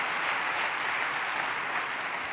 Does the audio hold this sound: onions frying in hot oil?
no